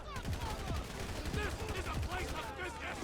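Bursts of gunfire in GTA 5, quick repeated shots layered over a steady game soundtrack and background noise, fairly distant and muffled.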